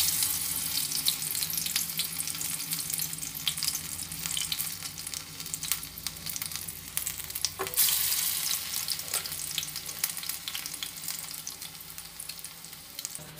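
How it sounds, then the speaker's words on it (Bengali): Lentil pakoras frying in hot oil in a wok give a steady, close sizzle and crackle that runs the whole time, with a few brief clinks and a soft watery tap-like hiss underneath, and no talking. "তো একটা কড়াইতে তেল দিয়ে দিয়েছি, ওটা এখন গরম হচ্ছে, তো এখন একে একে একটা একটা করে পকোড়া দিয়ে দেব"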